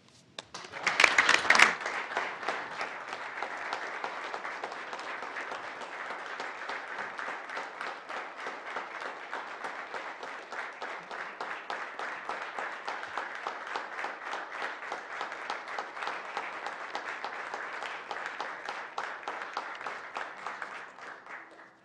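Members of the Newfoundland and Labrador House of Assembly applaud in a sustained, even patter of clapping that lasts more than twenty seconds after a brief louder burst at the start, then tapers off at the end.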